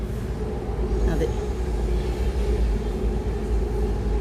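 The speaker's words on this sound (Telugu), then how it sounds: "అదిగో అక్కడ ట్రైన్ ఒకటి పోతుంది చూసారా మీరు" A train rolls past nearby in an outdoor natural setting, a steady low rumble and rattle of wagons holding throughout, with people talking over it.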